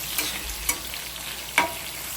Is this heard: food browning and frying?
yes